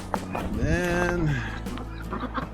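Chickens near a coop call out with one loud, drawn-out squawk that rises and falls, followed by softer scattered clucks close by.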